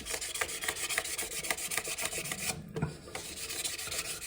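Repeated back-and-forth rubbing strokes of waterproof 1200-grit sandpaper roughening the sliding area of a Rock-Ola 1455 jukebox pin bank, a steady close rasping rhythm with a brief pause midway.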